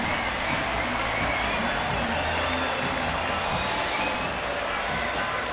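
A sold-out baseball stadium crowd roars in a dense, continuous wash of cheering and applause, loud and unbroken throughout.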